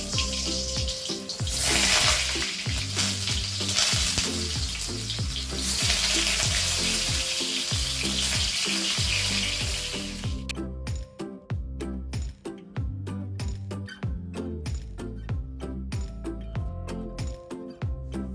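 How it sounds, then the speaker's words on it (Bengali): Pointed gourd and potato frying in oil, a dense, loud, continuous sizzle and crackle that turns sparser and more popping partway through. "লবণ আর হলুদ ছাড়া পটল আর আলু ভেজে নিচ্ছি।"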